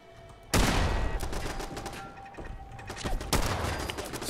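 Turret gunfire erupts in Fallout 4, with a sudden loud burst followed by sustained rapid automatic shots. A second heavy burst comes near the end.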